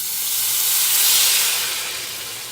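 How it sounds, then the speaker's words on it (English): A loud, steady hiss of creamed corn sizzling in a hot pan, swelling slightly in the middle and then easing off, with no talking. "And it's going to make a big sizzle"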